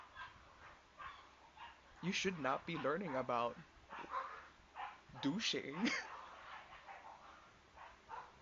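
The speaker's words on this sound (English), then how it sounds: "The dogs are fighting." Dogs fighting nearby, with two bursts of sharp yelps, whines and barks about three seconds apart, heard under a person talking continuously.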